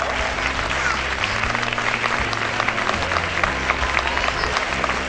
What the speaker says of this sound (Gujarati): Big clap for them. તાળીઓના ગડગડાટથી અમને વધાવી લઈશું.